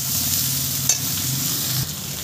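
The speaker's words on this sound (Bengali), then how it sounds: "আমি সুন্দর করে আমটাকে ভেজে নেব" Mango pieces for sour-spicy-sweet pickle frying in a pan, a steady close sizzle with a soft stirring scrape and a brief tap of the utensil partway through.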